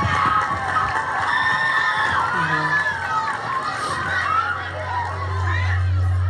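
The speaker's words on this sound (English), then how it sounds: "How about a nice round of applause for Woodbridge High School?" A crowd at an outdoor tree lighting cheers for a high school, with children shouting and whooping in a lively, loud mix. Scattered voices stand out, and a low hum rises near the end.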